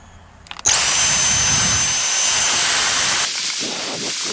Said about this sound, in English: let's see if my Dyson here is even working.